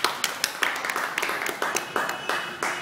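Several people clap hands at a casual gathering, a run of sharp irregular claps, fairly close, with a few voices mixed in.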